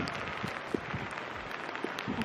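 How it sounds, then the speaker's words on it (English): Rain falls steadily beside the sea in Wales, a close, dense patter of drops striking surfaces with a few sharper taps. It stays fairly quiet, with no talking. "There's actually something really quite nice about walking by the sea in the rain."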